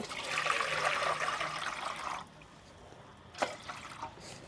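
Water pours steadily into a cooking pot for boiling catfish, a close gushing splash lasting about two seconds before stopping, followed by a couple of faint drips and small clunks.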